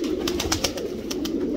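Pet pigeons coo in winter fog and cold, a low, throaty rolling murmur running throughout, with a few soft flutters or light taps on top, close and without talk.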